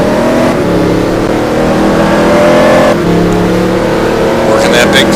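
A Koenigsegg GT1 race car engine revs loud and close, holding a sustained high-pitched roar with a shift partway through at a Dubai race, while a commentator speaks over it.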